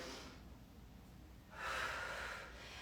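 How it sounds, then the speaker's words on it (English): Heavy breathing during a yoga session: a quiet exhale, then a stronger, airy inhale that swells and fades, close and soft, with no talking. "I'm breathing heavily today."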